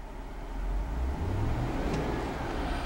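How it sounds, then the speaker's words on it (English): A 2011 GMC Yukon XL engine revs up from idle, a steady low rumble rising and holding for a few seconds, fairly close and loud with no one talking over it. "I'm going to rev the engine"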